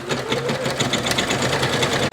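An embroidery machine stitches lettering onto a patch with a fast, steady, close mechanical chatter of needle strokes that runs without a break, then stops with a brief dip near the end.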